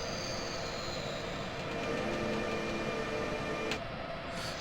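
A simulated train on the Semmeringbahn in Train Simulator rolls along while slowing toward a station, with a continuous rumble and faint wheel squeal, and a brief clunk near the end.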